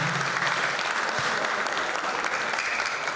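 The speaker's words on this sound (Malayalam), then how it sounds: "ഏറ്റവും വലിയ ക്ലാപ്പ് അവർക്കും ഈ സമയത്ത് നൽകുക." Dense, sustained applause from a large audience at an Onam 2024 celebration in Melbourne, loud and even throughout with no breaks.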